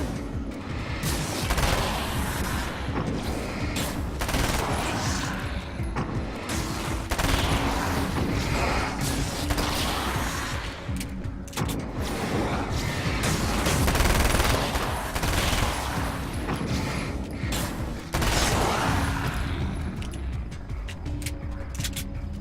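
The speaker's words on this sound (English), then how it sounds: "Assault rifle!" Assault rifle fire in Alan Wake's American Nightmare, a dense, continuous roar of rapid shots and impacts lasting throughout, loud and close, with no talking.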